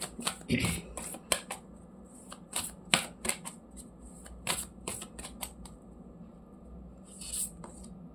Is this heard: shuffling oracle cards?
yes